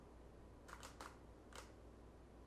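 Faint camera shutter clicks: a quick double snap, a third click, then one more a half-second later, crisp mechanical sounds over a quiet hiss.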